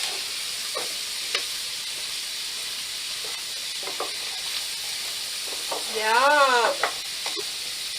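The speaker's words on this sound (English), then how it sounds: "And when we deglaze, it will lift up that nice fond, the little crispy bits from searing off our nice steak" A pan used to sear steak hisses and sizzles steadily as wine and Worcestershire sauce go in to deglaze, with scraping stirs clicking across the surface and a brief rising squeal of steam near the end; a voice speaks briefly.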